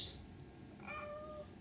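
A cat named Maui lets out one drawn-out meow, close and fairly soft, after a brief higher rustle.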